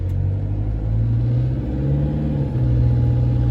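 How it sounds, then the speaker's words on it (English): Steady low diesel rumble from a Toyota Hilux under way, its injectors under load, a continuous close droning hum holding level throughout with slight swells and no talk. "I have to drive our HILUX again"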